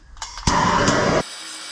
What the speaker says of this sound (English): I'm going to heat it up a little bit with a torch.